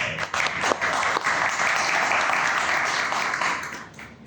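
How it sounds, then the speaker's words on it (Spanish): Audience applause at an educational forum welcoming a Holocaust Museum representative, a dense, steady clapping wash lasting about four seconds before easing off at the end. "La podemos recibir un aplauso."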